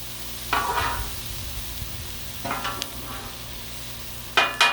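Bacon and vegetables cooking on a Blackstone griddle, a steady close sizzle with three bursts of spatula scraping and tossing, the last one sharper and louder.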